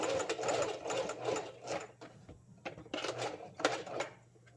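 A sewing machine back stitching a hat, running in short bursts of rapid mechanical stitching with brief pauses between runs. The machine is fairly quiet and close, with no talk.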